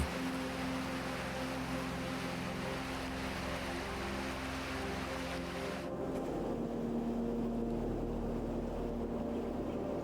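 A speedboat running from Sanur Beach in Bali across open sea to Nusa Lembongan, its engine droning steadily and loud with wind and water rush throughout, the tone shifting slightly partway through.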